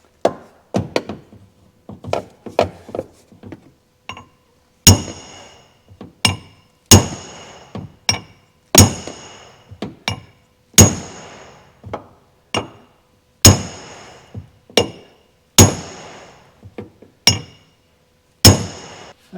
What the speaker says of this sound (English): I'm going to use this heavy duty body spoon, try and get it right in there and hammer on that